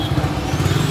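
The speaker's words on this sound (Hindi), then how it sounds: "देखो बहुत मिसिंग मार रही है गाड़ी" A Hero Splendor Pro BS4 motorcycle engine runs at idle with a steady, rough, pulsing throb at close range, with no other sound.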